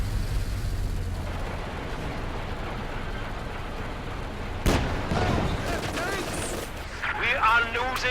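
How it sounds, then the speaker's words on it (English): An anti-tank gun fires in a video game with a single sharp, loud blast midway. A rumbling tail follows, set over a continuous background of battle noise. "AT gun shot connects with the Puma"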